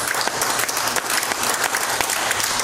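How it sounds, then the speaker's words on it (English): Church congregation clapping together at the close of a worship service, a dense, steady wash of many hands applauding throughout, loud and close with no pauses. "Give Him one more hand clap."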